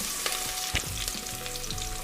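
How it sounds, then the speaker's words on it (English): Onions sizzle and crackle steadily in a pot for a village pilau, with a few sharp pops and the scrape of stirring close by. "And now you let your onions to cook."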